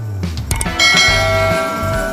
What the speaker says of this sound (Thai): กดกระดิ่งกิงๆ ให้กันเด้อครับ